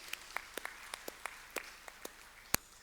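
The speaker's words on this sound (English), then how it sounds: "A big applause for her, please." Scattered, sparse hand claps from a conference audience at an economic outlook launch, a dozen or so sharp isolated claps spread across the moment, one louder near the end, with no talk over them.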